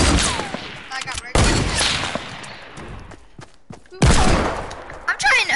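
Rapid bursts of gunfire and heavy shots rattle through a shooter video game match, several loud volleys separated by brief pauses, with a player's voice talking over the action.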